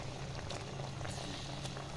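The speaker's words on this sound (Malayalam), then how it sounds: "ചാറൊക്കെ തിളച്ച് വന്നിട്ടുണ്ട്." Sardine curry with coconut milk and bilimbi bubbles in a pot, giving a soft, continuous simmering hiss with faint popping throughout.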